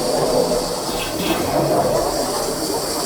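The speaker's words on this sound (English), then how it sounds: "The air from inside the other house is being pushed in through the cold, and it's pushing out all the water out the drain." Compressed air forces water out through a summer cottage's plumbing drain during winterizing, a loud, steady rushing hiss with gurgling water that holds constant throughout.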